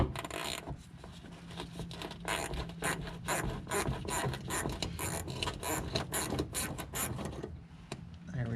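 A ratchet works a 14 mm bolt loose under a Mazda 3 during fuel tank replacement, producing rapid bursts of sharp clicking strokes in an irregular rhythm, close up and with no talking.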